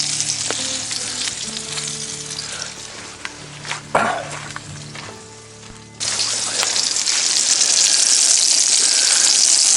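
Bacon and sausage frying in a pan on a Coleman camp stove outdoors in the Smoky Mountains, a loud, close, continuous sizzle that dips briefly midway with a few clinks, then surges back even stronger.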